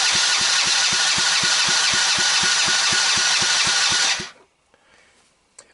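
An ATV engine cranks over on the starter during a compression test, a loud close whirring drone with a steady rhythmic chug of compression strokes for about four seconds before it stops.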